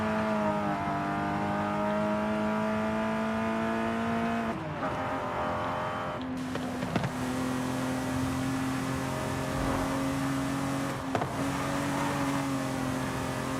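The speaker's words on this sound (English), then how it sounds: "has a Coyote base engine. Ford Coyote, but tuned by Cosworth, I believe." A TVR Griffith with a Cosworth-tuned Ford Coyote engine driving in Forza Horizon 5, its steady engine drone holding a rising pitch, dropping briefly at two gear shifts, then pulling on loud and close.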